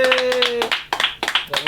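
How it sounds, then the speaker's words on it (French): Applause for a tournament winner after a Mario Kart contest, with a few people clapping close by in short bursts under talk. "on peut l'applaudir"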